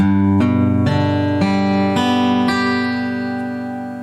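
A single chord strummed on a custom 435 RSW California Gold acoustic guitar, followed by a few slower plucked strings that ring and sustain, clear and close with no talking.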